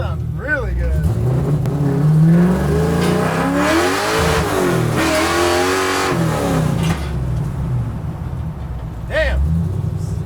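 Close, loud revving from a car fitted with a modern exhaust, the engine pitch swelling and falling across repeated pulls, with voices talking over the roar.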